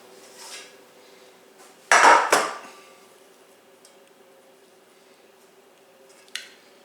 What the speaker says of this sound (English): let me fetch my cake pans